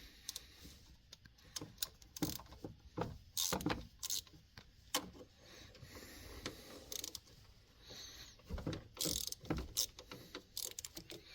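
A ratchet wrench loosens the three bolts on the thermostat housing of a 2015 Chevrolet Suburban, giving quick bursts of faint, close clicking in an irregular rhythm.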